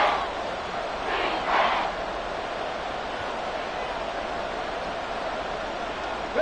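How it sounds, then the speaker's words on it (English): Stadium crowd at an American football game with Washington playing, a steady broad roar of cheering and noise throughout, swelling briefly early on, with no clear talk over it. "This crowd doing all they can."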